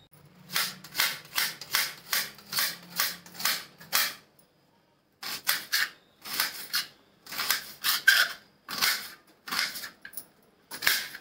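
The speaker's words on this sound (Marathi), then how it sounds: "कांदा चिरून घेते।" A knife chops onion on a board for crispy bread pakoda, giving quick bursts of sharp close taps in runs of several strokes, a short pause midway, then more irregular chopping.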